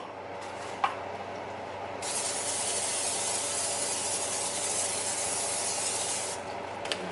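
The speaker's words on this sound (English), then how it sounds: "start off with some olive oil cooking spray" A steady hissing spray of olive oil cooking spray runs for several seconds, with a couple of small clicks at the start and end, over a low background hum.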